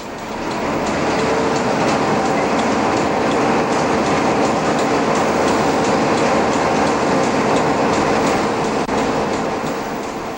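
Newfoundland Railway (TerraTransport) train running on narrow-gauge track past Terra Nova National Park, a loud, steady rumble with rhythmic clickety-clack of wheels over rail joints and faint squeals, heard from on board.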